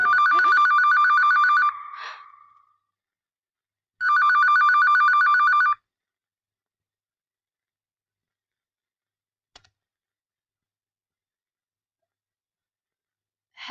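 A telephone bell rings in two loud bursts separated by a short pause, followed by near silence with a faint click.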